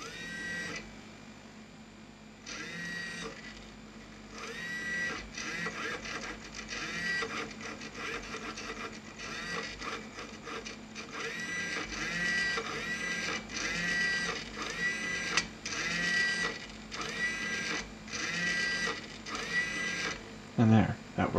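A servo motor on a 6 DOF robotic arm kit whirs in repeated short, buzzing bursts as it rotates and stops, close and steady, with someone talking over much of it.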